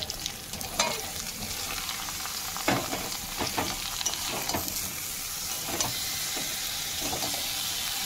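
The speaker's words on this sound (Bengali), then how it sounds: "ঝিঙেটাকে একটু ভালোভাবে নেড়ে নেব।" Chopped ridge gourd hits hot oil with fried ginger paste in a pan and sizzles steadily, with scraping stirs against the pan every second or so.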